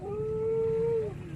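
A single long, steady dog howl rings out at night, sustained at one pitch before trailing off, over quiet background hiss.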